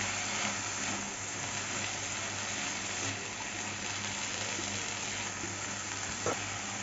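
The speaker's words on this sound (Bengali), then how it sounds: "এখন ভালো করে নাড়িয়ে চাড়িয়ে নেব।" Dhenki greens fry in a pan with a little salt, turmeric and sugar, giving a steady, low hiss of sizzling with faint stirring scrapes throughout and no voices.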